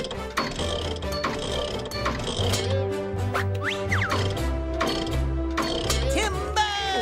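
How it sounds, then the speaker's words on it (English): Cartoon sound effects of a tree being unbolted by mechanical animal characters: busy ratcheting and gear-like mechanical clicks and whirs over a steady musical bed, with a few rising slide-whistle tones, loud and continuous. "First, I'll unbolt it."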